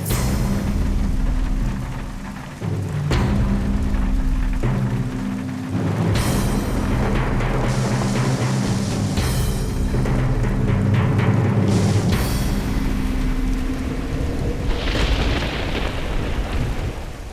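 Heavy rain pours steadily while thunder rumbles and cracks several times, with deep booming rolls and sharper bursts rising over the constant hiss of downpour.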